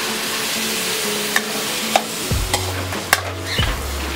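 Pancit lomi ingredients sautéing in a pan with soy sauce added give a steady, close sizzle, with a few sharp scraping clicks from stirring and a low hum underneath.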